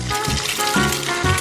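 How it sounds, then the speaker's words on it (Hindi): Pasta deep frying in hot oil, a continuous close bubbling sizzle with a few soft pops and low thumps. "हाँ, तो अब मेरा पास्ता पक गया है। अब मैं इसे डीप फ्राई करूंगी।"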